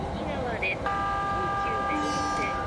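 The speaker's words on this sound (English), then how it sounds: "So I need to keep my eyes on the track so I can honk at these people and whatnot." A train horn in the Densha de Go! Yamanote Line arcade game sounds as a sustained tonal honk lasting about two seconds, over steady game noise and a talking voice.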